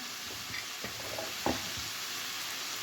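Garlic frying in a skillet for a homemade breakfast, a soft continuous sizzle with a few light clicks and taps of stirring, close and fairly quiet.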